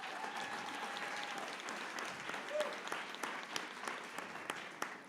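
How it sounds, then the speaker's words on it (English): Audience at a startup pitch competition applauding for the judges, a steady dense wash of clapping that stays loud throughout and ends with a few sharper, scattered claps. "I want to give our judges one more round of applause."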